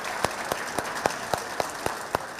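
A studio audience on a Hindi television debate show claps to welcome two speakers, a modest, fairly faint spread of applause with several distinct sharp claps standing out at a steady pace.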